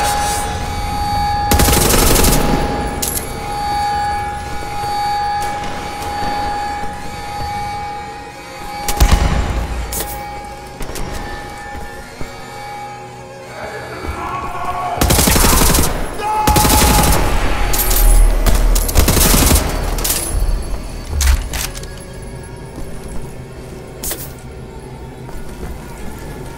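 Heavy gunfire in Wolfenstein: The New Order, with loud bursts of automatic fire and shots scattered across the clip, separated by short lulls and some background hum.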